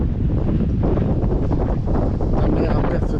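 Strong seaside wind at Sète buffets the microphone in a loud, continuous low roar with gusty swells and no distinct other sounds.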